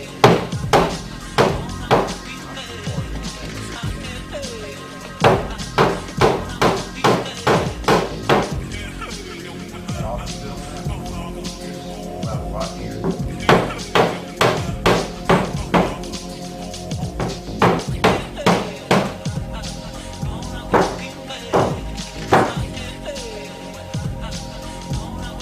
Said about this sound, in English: Get you a peck hammer or something where you can knock it down